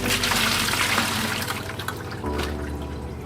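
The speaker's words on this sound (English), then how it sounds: "You just put a net over a bucket, then dump it straight through the net so it catches the water." Water from a triple-bagged shipping bag of African cichlids is dumped through a net into a bucket, a loud continuous splashing pour that eases off toward the end.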